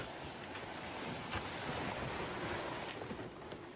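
Ocean waves wash steadily against a whale-hunting boat covered in sealskins, a continuous broadband surf rush with wind noise and no voices.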